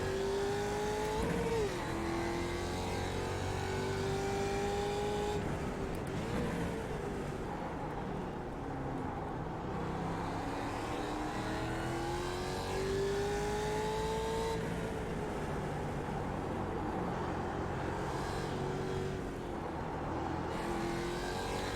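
A Mustang race car drones close by as it threads through slower lap traffic, its engine note rising and falling through upshifts and lifts, with other cars' engines audible around it.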